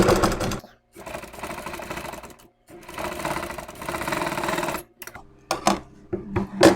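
A sewing machine runs long basting stitches to attach net fabric on a blouse back. Three sustained close, buzzing runs are followed by several quick short bursts and clicks, loud and alone.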